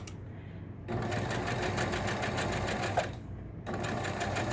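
A sewing machine runs steadily while stitching a 1/8 inch seam, its fast even needle clatter close and loud, pausing briefly near the start and again toward the end before resuming.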